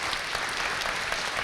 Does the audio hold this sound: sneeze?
no